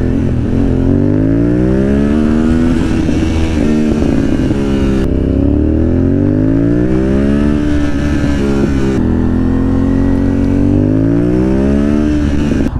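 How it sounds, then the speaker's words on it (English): A carbureted motorcycle engine revving hard from the rider's position, loud and close, with repeated rising and falling throttle sweeps showing quick response and no talk over it. "Look at that throttle response. Carbureted bike and that throttle response is pretty fucking good,"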